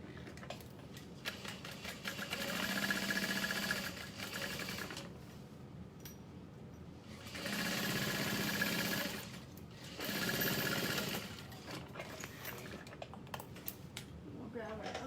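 Sewing machine basting a handbag lining, several bursts of fast rhythmic needle whirring separated by pauses, with a voice talking in the background.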